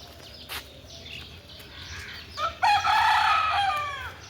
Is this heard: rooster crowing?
yes